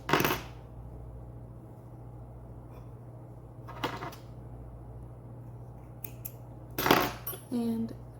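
Sharp scissor snips trimming the yarn tail of a crocheted gingerbread garland piece, a few separate quick cuts spaced apart over a faint steady hum, fairly close and quiet.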